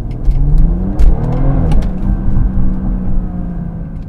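A Dinan-tuned 2016 BMW 340i xDrive with over 400 bhp accelerates hard, its engine note rising in a loud, continuous roar with steady rumble and no talking.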